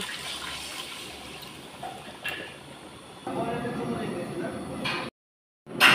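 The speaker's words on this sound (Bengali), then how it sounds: "আমি এবার জল দিয়ে দেব" Water is poured into a pot of khichdi over fried spices, giving a rushing gush of liquid for a couple of seconds against background noise before it cuts off abruptly.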